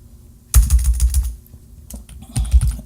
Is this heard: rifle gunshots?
no